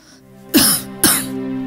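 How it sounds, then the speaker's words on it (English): A woman who fell ill coughs twice, with harsh, throaty bursts about half a second apart, close and loud against a quiet background. "she started coughing up blood"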